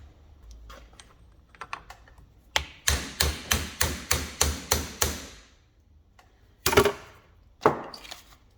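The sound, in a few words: hammering a socket over a driveshaft gaiter clip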